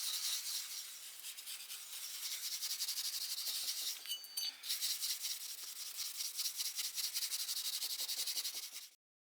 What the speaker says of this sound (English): I'll wax the blade.